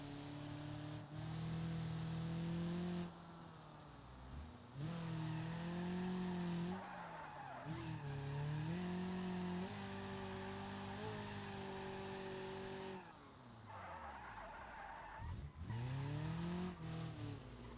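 Racing car engine in a video game revving hard through gear changes, with repeated tire squeals and skids; loud and continuous across the whole stretch, rising and falling in pitch, with no talking.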